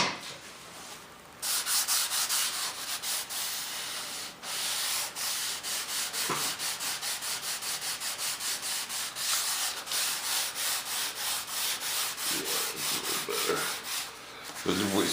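Sanding by hand with 320 grit sandpaper taped to a pencil, working along panel lines: a steady run of close, rapid back-and-forth rubbing strokes with a brief pause early on.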